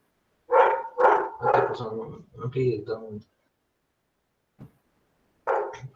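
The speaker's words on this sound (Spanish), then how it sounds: "mi perro está ladrando a la puerta" A dog barks at a door several times up close, sharp and loud, with short pauses and a final bark after a gap; speech may blend in.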